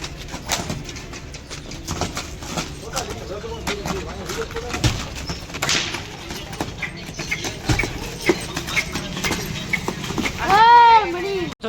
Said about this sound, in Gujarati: તો હવે કેવો ઘોડો કૂદે છે